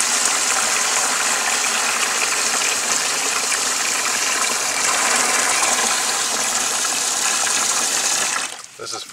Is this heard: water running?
yes